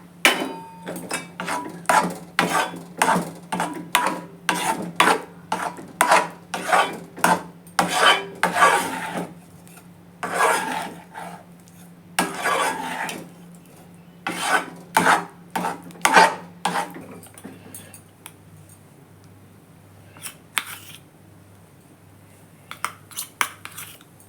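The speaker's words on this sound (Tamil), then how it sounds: "சிம்மில் வச்சுட்டு நம்ம கிளறி விட்டுக்கிட்டே இருக்கணும், அடி பிடிக்காமல்." A spoon stirs groundnut halwa with ghee in a pan over low heat, making rhythmic rasping scrapes in steady bursts that slow and thin out toward the end, close and clear with no talk.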